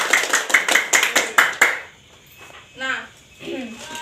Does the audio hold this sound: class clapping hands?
yes